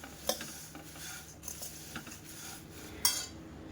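Puffed rice being stirred in a hot kadai while making masala sev mamra, giving soft dry scraping and rustling with a few sharper clinks of a metal spoon against the pan, fairly quiet.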